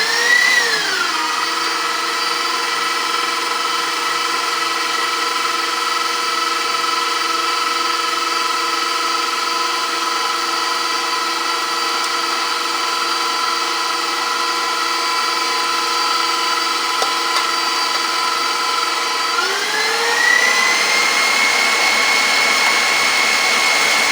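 Electric mixer whirring steadily at high speed as it beats egg whites with a hot sugar syrup for marshmallow, a loud continuous motor drone that drops in pitch as the load grows, then rises again near the end.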